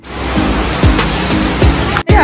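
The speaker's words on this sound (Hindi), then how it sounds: "हमें आज़िल को करवाना था आज गंजा और बारिश हो गई है" Steady rain falls outdoors as a loud, continuous hiss with a few heavier low thumps mixed in, briefly cut off near the end before resuming.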